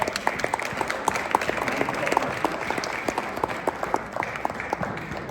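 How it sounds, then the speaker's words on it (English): Audience at a Black Education Week opening ceremony applauds as honorees are called up, a sustained burst of dense, crisp clapping with distinct individual claps standing out, continuous for several seconds. "I want really big applause, okay? Really big applause as we go through these names"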